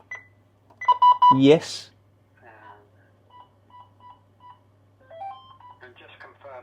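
Keypad tones sound on a lift alarm unit as a code is entered: a run of short electronic beeps, several distinct tones spaced across the clip, with a brief spoken word between them.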